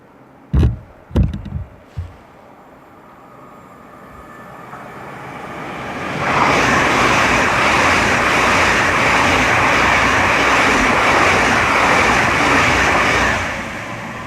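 A pair of Class 800 trains passes through Twyford station on the Great Western Main Line. A few close knocks come first, then a loud broad rush builds and holds for several seconds before easing off.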